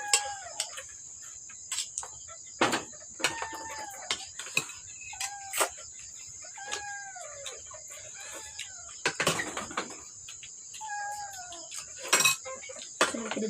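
Pet chicken in a backyard making short clucking calls in several bursts, alongside a steady high insect or cricket drone and occasional sharp noises.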